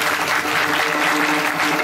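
Dense, steady applause from a crowd at a temple kirtan during a Mahashivratri celebration, close and continuous throughout without pause.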